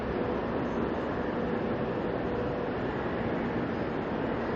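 A train rumbles at a busy Guangzhou station during the Spring Festival travel rush, a steady, loud broadband roar that holds evenly throughout with no talk.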